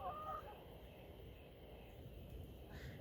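Backyard chickens make a few soft, quiet clucking calls near the start, then low muffled fowl sounds continue faintly in the background.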